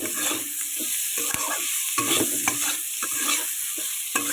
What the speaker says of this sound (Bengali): এবার আমি আলুটাকে সুন্দর করে কষাই করে নেব আমি গ্যাসটাকে বাড়িয়ে দিয়েছি